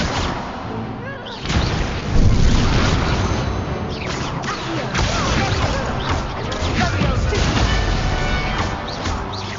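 Repeated explosive spell blasts from a Confringo duel in the Hogwarts Legacy video game, loud crashing booms stacked densely over a continuous rumble of combat effects with a voice calling out spells.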